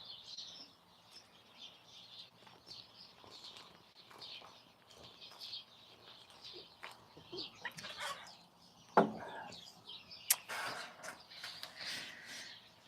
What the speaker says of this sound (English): the more leaves and branches you have, the more damn birds you have in there